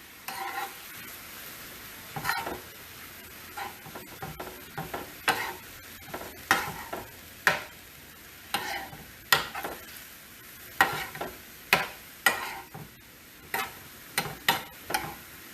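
Soy sauce and cornstarch being stirred into a Chinese stir-fry, with repeated sharp scrapes and clacks of a utensil against the pan in an irregular rhythm over a quiet sizzle, close up and without talk.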